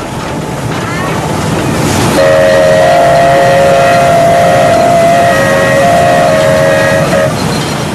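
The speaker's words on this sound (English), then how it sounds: "it's always a special occasion when a steam train goes by." A steam train passes along a track in India, its steady rumble and hiss rising loud and close, with a long sustained whistle sounding for about five seconds over the noise.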